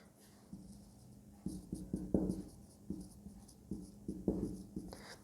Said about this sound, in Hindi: मैं तो यहां लिख देता हूं